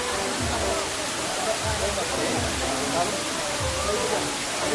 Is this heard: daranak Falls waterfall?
yes